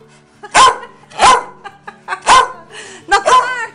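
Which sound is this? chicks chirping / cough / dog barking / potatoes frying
dog barking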